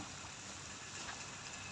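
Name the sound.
rain falling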